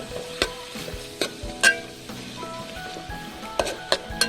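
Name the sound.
sautéing chopped onion in pork fat for pork curry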